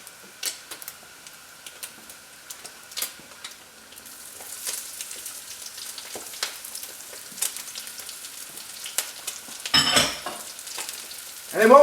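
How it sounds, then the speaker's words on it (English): Eggs frying crispy in a hot pan with garlic and chili stirred into fried rice, steady soft sizzling with scattered clicks and scrapes of stirring, growing busier toward the end. "we've got our eggs and they're frying and becoming crispy and delicious, almost like a deep fried fritter"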